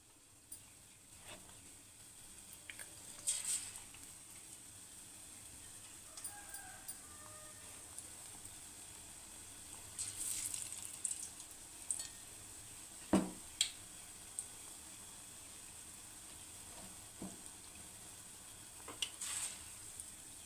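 Bajji fritters frying in hot oil: a faint, continuous sizzling hiss with occasional louder crackles and pops, plus scattered soft background noises.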